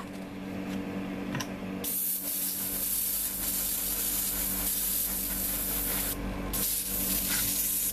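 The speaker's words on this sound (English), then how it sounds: "I'm going to paint these with Tamiya XF56 metallic gray." An airbrush or spray can applies Tamiya XF56 metallic gray paint to plastic parts of a 1:72 Italeri Su-34 model kit, giving a steady close hiss that stops briefly partway through and then resumes, with no talking.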